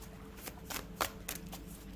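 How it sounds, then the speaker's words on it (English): A tarot card deck being shuffled in quick bursts of papery riffling and slapping, several separate flurries close by with no talking. "Let's shuffle that up again."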